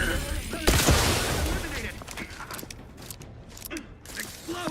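Gunfire in The Outer Worlds 2 during a combat encounter: a loud opening volley followed by scattered sharper shots and mechanical clatter, fairly close and busy throughout.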